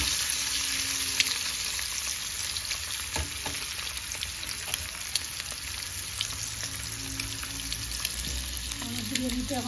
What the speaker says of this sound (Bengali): এখন তো আমি ডিমটা ফ্রাই করলাম